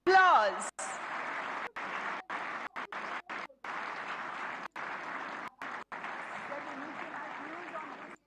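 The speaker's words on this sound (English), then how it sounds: "Let's have a big round of applause." An audience in a large hall gives a round of applause, with steady broadband clapping repeatedly cut by brief dropouts.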